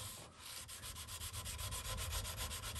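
A blunt hand tool being sharpened, its secondary bevel ground with quick, rhythmic back-and-forth rubbing strokes on a stone, steady and close.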